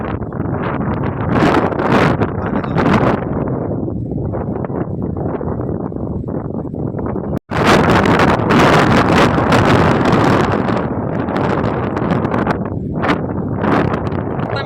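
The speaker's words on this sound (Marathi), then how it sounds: "वाऱ्याचा आवाज तुमका येत असत बघा" Strong, gusty stormy wind near the sea roars and buffets against the microphone, loud and continuous, with a brief cutoff midway before surging back.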